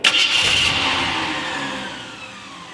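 A Ford F250 truck engine turns over with a sharp whine and catches, then settles into a fading mid-pitched running drone, close and fairly loud with no talk.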